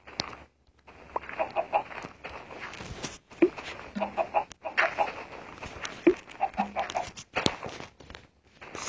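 Chickens on a small farm in the video game Minecraft Pocket Edition give soft, repeated clucks at a steady pace, along with quiet footsteps and no talking.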